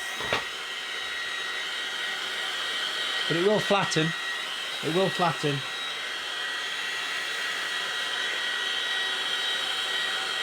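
A hair dryer drying a watercolour landscape painting hums in a constant whir throughout, while someone speaks briefly over it midway.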